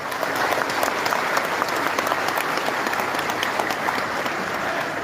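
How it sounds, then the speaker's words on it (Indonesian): Sustained audience applause at the Partai Umat national working meeting, a dense steady clapping from a large crowd that continues evenly throughout. "Sekali lagi beri aplaus."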